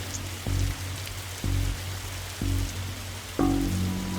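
Rain falls in the video game The Darkside Detective as a steady, soft hiss. Four evenly spaced low tonal pulses repeat over it, with no talk.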